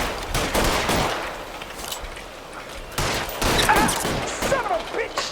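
Gunfire in the video game L.A. Noire, dense bursts of rapid shots and fusillades coming in waves, loud and close, with shouted voices mixed in.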